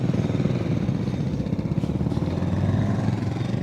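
A motorcycle engine runs steadily nearby at the Alpe Aventure Moto Festival with a low, rumbling, slightly clattering tone and no talking.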